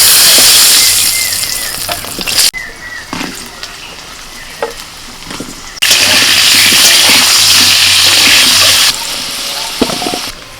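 Pointed gourd slices fry with turmeric in hot oil, giving a loud, steady broadband sizzle that drops away briefly in the middle, then surges back just as strongly before easing near the end.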